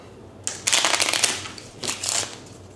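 A deck of board game cards being shuffled, two bursts of riffling and rustling close by with a short pause between them.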